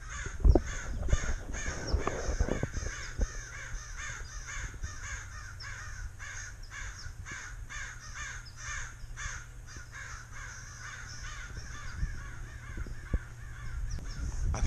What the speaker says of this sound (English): I think that's what the birds are alarming.